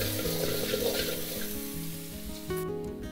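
Garlic sizzling in a tablespoon of hot oil for semi-gravy chilli chicken, a continuous close frying hiss with faint low tones underneath, steady throughout.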